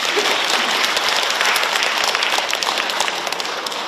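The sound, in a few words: audience applause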